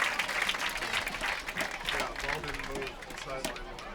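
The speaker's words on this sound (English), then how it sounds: "Must have been able to tell from the applause from Lake City fans on this side" Lake City high school football fans applaud from the stands during a game, a broad wash of clapping and crowd noise lasting several seconds, mixed with voices and commentary.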